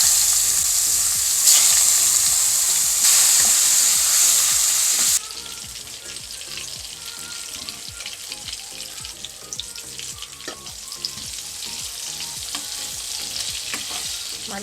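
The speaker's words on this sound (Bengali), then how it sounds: "মাছ ভাজার তেলেই বেগুনগুলো ভেজে নিই।" Sliced brinjal frying in the mustard oil left from frying fish, a loud continuous sizzle close up with scraping stirs from a wooden spatula, the sizzle easing partway through.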